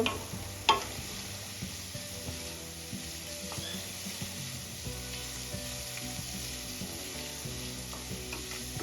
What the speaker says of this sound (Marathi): इथे आपल्याला हा मसाला छान परतून घ्यायचा आहे